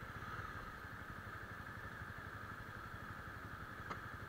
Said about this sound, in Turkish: Hafiften gaz ver. Hafiften debriyajı bırak.